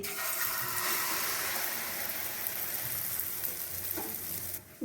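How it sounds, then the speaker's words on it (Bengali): Ground lentil paste poured into hot white oil, setting off a loud, dense sizzle that holds steady close by before fading slightly at the end. "তেলটা গরমও হয়ে গেছে আমি পেস্টটা ঢেলে দিচ্ছি"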